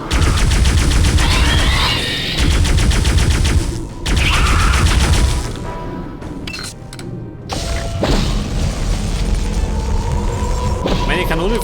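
Dense, loud energy-cannon fire in Aliens vs. Predator 2, sustained mechanical blasting with brief drops between bursts and thick game effects layered over it.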